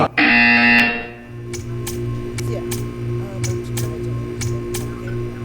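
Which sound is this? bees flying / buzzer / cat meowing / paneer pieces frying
buzzer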